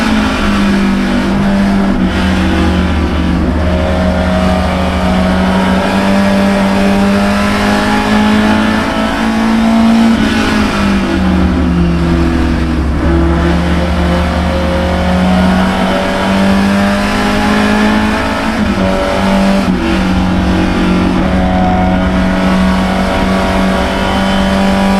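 A Lotus Cortina race car engine drones loudly and steadily at Lime Rock Park, its pitch rising and falling through gear changes as it races alongside other cars on the straightaway, with no one speaking.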